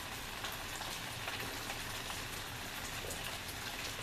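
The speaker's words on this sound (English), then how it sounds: "And it's still raining, and it's not going to stop the whole weekend." Heavy rain from Hurricane Patricia pours down in a steady, dense hiss with no letup, an even wash of drops with no voices over it.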